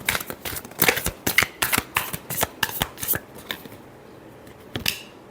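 Tarot cards are shuffled by hand in a rapid series of crisp riffling slaps, close and loud, trailing off into quiet near the end with one last flick.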